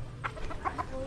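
A few soft, quick clucks from chickens nearby, faint against low background noise.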